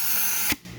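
Inside a GM 6L80E transmission, compressed air hisses steadily past a clutch piston, then cuts off abruptly into near silence before a softer hiss resumes, close and alone.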